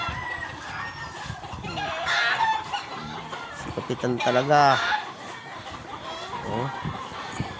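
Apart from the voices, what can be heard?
chickens clucking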